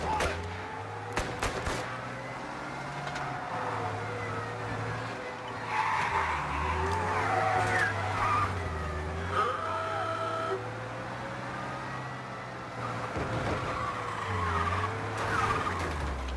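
Police car in the video game Mafia, engine revving and shifting pitch as it drives, with tire squeals and skids breaking out at intervals and a few sharp clatters along the way.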